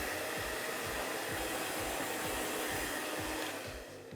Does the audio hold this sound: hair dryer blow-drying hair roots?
yes